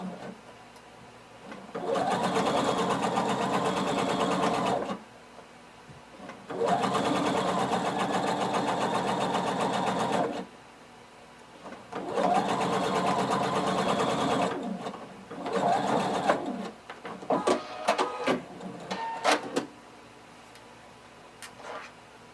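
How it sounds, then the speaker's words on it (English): A sewing machine stitches along the edge of a shorts or pants garment in four long steady runs with short pauses between, followed by a few brief bursts of stitching. "You're going to sew all the way"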